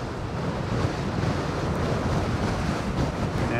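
Strong wind buffets the microphone on Fort Myers Beach, a continuous loud roar blended with breaking surf, steady throughout with no voices.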